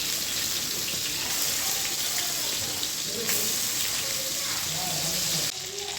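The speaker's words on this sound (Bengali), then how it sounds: "মাছটা এখন আমি ভেজে নেব।" Small pieces of fish fry in oil in a small kadai, a dense, continuous close-up sizzle that holds steady before dropping off slightly at the end.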